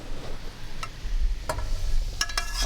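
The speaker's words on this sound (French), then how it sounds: "il faut gratter le fond de la casserole" Cooking juices from sautéed mussels scraped and stirred across the bottom of a saucepan, a steady low sizzle with a few sharp scraping strokes, close and moderately loud.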